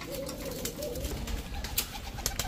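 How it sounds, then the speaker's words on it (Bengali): A blue bar female pigeon coos softly at close range, a low murmuring call over a faint background of other birds. "ব্লুবার মুখী একটা মাদি কবুতর"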